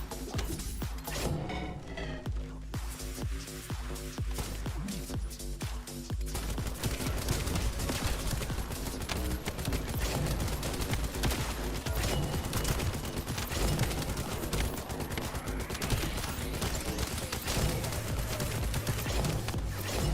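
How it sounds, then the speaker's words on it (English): Rapid gunfire in The First Descendant, dense bursts of automatic shots running continuously with brief gaps, loud and up front under game music and effects. "I'm just firing for the movement speed."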